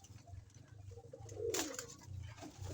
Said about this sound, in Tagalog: Ito ang ating kalapatids mga ibon.